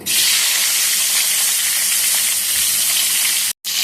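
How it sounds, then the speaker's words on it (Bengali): Eggplant slices fry in hot oil with a steady, loud, bright sizzle and hiss that runs almost unbroken, cutting out briefly near the end. "এই তেলের মধ্যে আমি বেগুনটা ভেজে নেব।"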